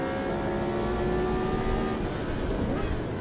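A Formula 1 car at Interlagos in the Automobilista simulator accelerates hard, a loud, steady, high engine whine with rising harmonics over dense road noise, heard alone.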